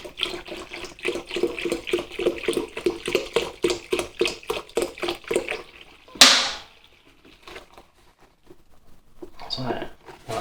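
Water glugs into a Pinter brewing keg in rapid, rhythmic pulses for several seconds, ending with a sudden splashy burst and then quiet.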